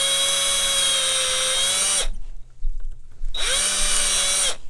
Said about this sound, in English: So I'm gonna grab a drill bit and I'm gonna drill those out